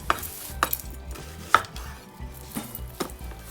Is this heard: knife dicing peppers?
yes